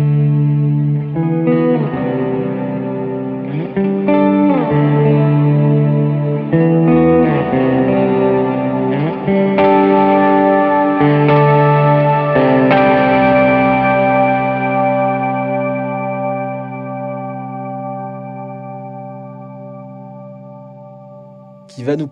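An electric guitar runs through an Event Horizon harmonized reverb pedal on a pedalboard. Sustained chords and notes bloom into shimmering pitched layers, then decay in a long, smooth tail that fades out alone.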